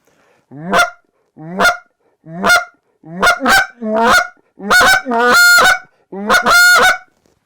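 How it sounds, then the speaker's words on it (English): A $55 Hayes goose call blows a series of loud, sharp honks, starting as single evenly spaced notes and speeding into quick doubled and rolling honks. "You're going to get a honk, a cluck, and you're going to get some other noises out of it"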